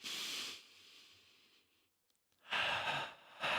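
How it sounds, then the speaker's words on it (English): Deep meditative breathing, a long slow exhale fading away, a short silent pause, then a strong fresh inhale or exhale, close and breathy with no talk. "Let's breathe."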